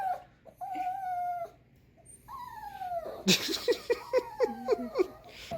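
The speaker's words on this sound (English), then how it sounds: "one of the chillest dogs I've ever met" A dog whimpers and whines in drawn-out, wavering tones, then breaks into a rapid run of short, sharp yelps, all close and fairly loud with no talk over it.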